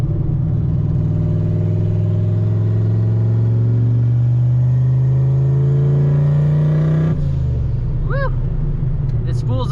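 A turbocharged Fox-body car engine roars with the exhaust cutout open, a loud, deep, rising drone that climbs steadily in pitch before dropping off, with a voice briefly heard near the end.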